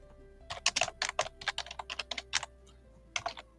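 Rapid bursts of computer keyboard typing, close and crisp, run for a few seconds. A short pause follows, then a final flurry of keystrokes, with no talking.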